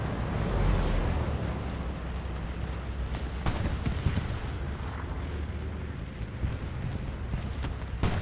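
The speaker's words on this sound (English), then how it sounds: "Hearing a bombing run of their own." Bombs from an aerial run in the World War II shooter Hell Let Loose rumble and crack as a string of heavy distant blasts over a constant low roar, with a single aircraft passing overhead.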